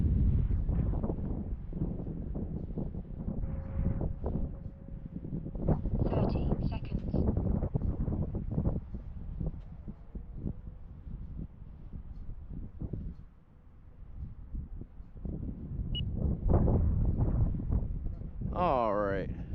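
Steady, heavy wind buffeting the microphone at an RC airplane flying field where a Pilatus PC-21 model is flown, roaring continuously with gusty swells while someone talks over it.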